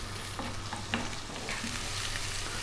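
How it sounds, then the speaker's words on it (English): Onion and chopped garlic sautéing in a pan, a soft steady sizzle with scattered scraping clicks as the pieces are stirred, no voices. "We're going to go with the cup of onion and the tablespoon of chopped garlic. About 3 minutes, stirring fairly often."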